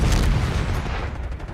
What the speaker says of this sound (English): Frag, going out.